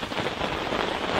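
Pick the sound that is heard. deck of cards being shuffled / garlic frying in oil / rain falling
rain falling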